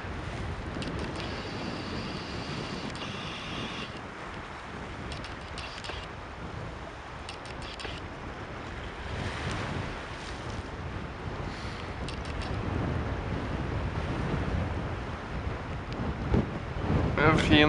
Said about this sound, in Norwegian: Det blåser. Det blåser veldig mye her ute ved